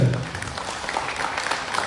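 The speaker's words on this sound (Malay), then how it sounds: "Tepukan gemuruh pada mereka." Thunderous applause from a crowd at a film launch event for Orang Perang, a dense continuous wash of clapping filling the whole moment.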